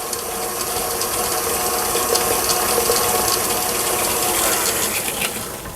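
An electric mixer beats cake batter for a coconut lemon mousse cake, a continuous loud whirring and rattling close by with a steady texture and no pauses.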